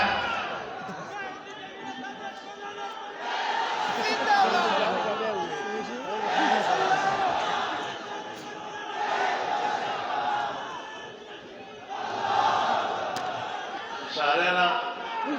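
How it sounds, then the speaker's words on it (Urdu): A large crowd at a Khatm-e-Nubuwwat religious gathering in Chenab Nagar roars and chants slogans in repeated surging waves, loud and close, with shouting voices overlapping throughout. "اب دونوں نعرے کم لگائیں۔"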